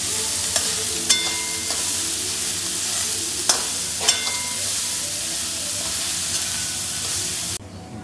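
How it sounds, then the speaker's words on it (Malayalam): Onion, green chilli, ginger and garlic fry with salt in a pan, giving a steady close sizzle broken by a few sharp clicks of a spoon stirring against the pan, before the sound drops away near the end. "ഇനി നമുക്ക് ഇളക്കി കൊടുക്കാം."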